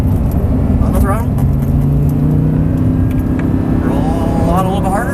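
An Audi R8 engine pulls hard on a race track, a loud, steady roar that climbs in pitch as it accelerates, heard from inside the car with an instructor's voice over it.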